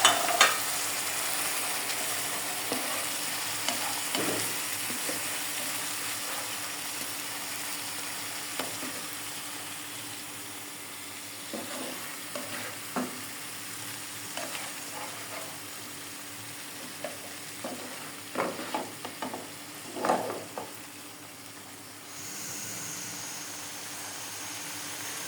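A paste of chili, turmeric and cumin being stirred and fried in a pan for rohu fish curry with nuts: quiet steady sizzle under intermittent scraping and tapping stirs, busier toward the end.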